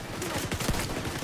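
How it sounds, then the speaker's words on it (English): A rapid cluster of muffled explosions from mortar shells landing in a video game, thumping bursts rolling together over about a second with a noisy backdrop. "It's 3 mortars going down."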